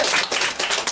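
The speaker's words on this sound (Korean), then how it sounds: "박수 한번" An audience at a lecture on activated enzyme products breaks into a short, dense burst of clapping, many hands at once, fairly loud and close.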